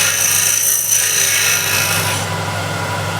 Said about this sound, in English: this will just be a really quick scrape